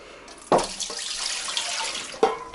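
Water pours from a tap or container into an autoclave used for steaming home-canned bream in tomato, a steady splashing stream between two sharper bursts at the start and end, close and fairly loud with no talking.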